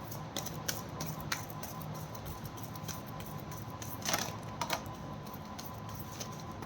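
Tarot cards being shuffled for a reading: a continuous soft flutter of rapid small clicks and riffles, close and fairly quiet, with a couple of slightly louder snaps near the end and no talk.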